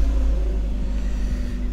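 A Maruti Suzuki Brezza, hot after standing in the May heat, idles with a steady low engine rumble, close by and continuous with no speech.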